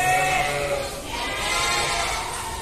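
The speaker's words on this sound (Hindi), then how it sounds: "सोजत प्योर सोजत में आएगी ये बकरी" Goat bleating amid the nighttime crowd at a busy livestock market, drawn-out wavering cries close by over steady background murmur and chatter.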